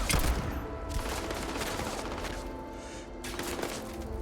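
Sustained gunfire from weapons in the space shooter Starfield, a dense, loud fusillade of rapid shots filling the whole stretch, with a brief lull near the end before firing resumes.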